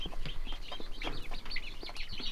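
Young, not yet full-grown Speckled Sussex chickens cluck and chirp in quick, overlapping bursts nearby, a busy stretch of soft calls with no talk.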